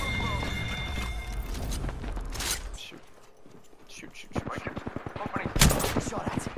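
Gunfire in the Apex Legends video game, bursts of rapid automatic shots and single cracks in two clusters with a lull between, heard over voice chat as players talk.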